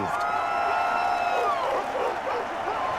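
A dense stadium crowd in the Madden 21 American football video game roars steadily throughout, with scattered cheers and whistles rising over the constant wash of noise.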